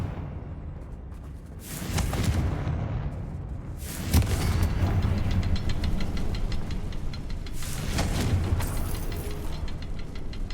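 Confringo fire spell cast in the game Hogwarts Legacy, heavy booming blasts that erupt in repeated bursts with rumbling roar and crackle between them, loud and close.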